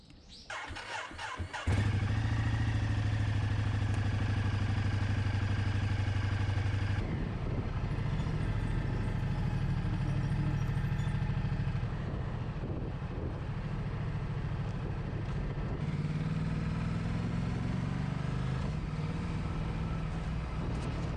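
A motorcycle loaded with camping gear in two large dry packs, its engine roaring loud and steady throughout after a brief start, with the pitch shifting as it rides.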